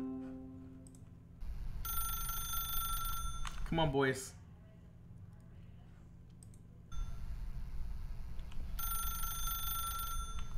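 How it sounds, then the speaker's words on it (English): A telephone rings in The Stanley Parable video game, sounding in two long bursts of bright, repeating bell tones with a pause between them, while someone speaks over it. "If you can truly place your faith in another, then pick up the phone."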